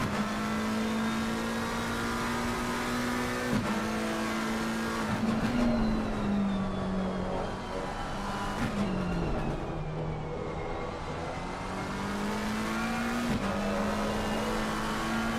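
Race cars in Assetto Corsa Competizione lapping Misano, a steady loud engine drone with shifting pitch as cars jostle through a corner, continuous and close throughout.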